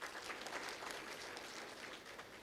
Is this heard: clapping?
yes